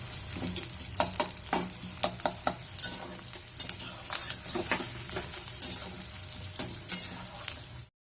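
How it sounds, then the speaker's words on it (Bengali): Onion frying in a pan for chow mein, a steady close sizzle broken by sharp clinks and scrapes of a stirring spoon against the metal, with no talking. "পেঁয়াজটা দেওয়ার পর একটু লাল লাল করে ভেজে নেবো"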